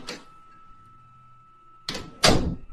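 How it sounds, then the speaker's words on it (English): A bathroom door opens: a short early knock, then after a quiet hum two close bursts of handle and latch movement and a swinging door, alone with no talk. "I heard the bathroom door open"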